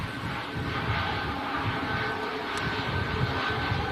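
Ryanair airliner on final approach, a steady broadband engine roar at moderate distance that holds constant throughout with no talk over it.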